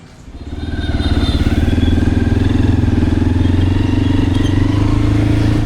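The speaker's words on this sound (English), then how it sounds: "I fire up the motorbike and ride into the central market of Sóc Trăng" A motorbike starts and idles with a steady, loud, close putter, its pulsing engine note rising and then holding on in Sóc Trăng, Vietnam.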